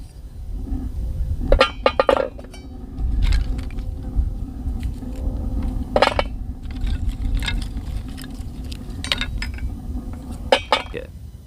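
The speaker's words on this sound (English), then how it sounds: "I go ahead and take my cork off, and then I just feed sticks right down from the top." Dry sticks fed down through the open top of a Kelly Kettle base camp kit, making several light woody clinks and clatters spread through the clip over a low outdoor rumble.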